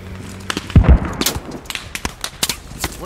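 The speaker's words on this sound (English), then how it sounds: "Oh, I hear some shots." Gunshots in the Squad military shooter game: a sharp loud burst of shots near the start, followed by scattered fainter cracks and thumps, some distant, without speech.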